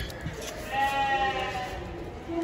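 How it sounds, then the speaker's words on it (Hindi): A goat weighing about 65 to 70 kg bleats at the Deonar livestock market in Mumbai, one drawn-out cry close by, with someone talking around it in a busy market setting. "बहुत गर्म बकरा है।"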